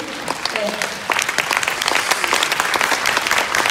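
A seminar audience at Kintex in Ilsan gives loud, sustained applause welcoming a speaker, the crowd clapping thickening after the first second and holding strong.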